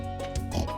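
A single short grunting oink from a pig in the farming video game Stardew Valley, close and clear.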